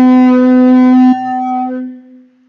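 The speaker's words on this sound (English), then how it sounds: "So this is an African animal horn. It sounds a bit like this." A single loud, steady blast on an African animal horn, bright and buzzy, dropping slightly in pitch before fading out.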